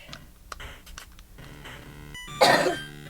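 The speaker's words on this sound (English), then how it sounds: "Bit of a cough." A few small throat sounds, then one sharp cough near the end, close and fairly loud, with no talking, from the video game Maniac Mansion.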